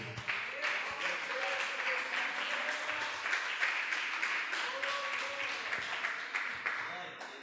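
A church congregation applauding, steady dense clapping that carries on evenly for several seconds while a voice speaks over it.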